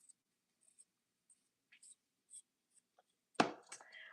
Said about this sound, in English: I'm gonna peel it. Very thin peeling.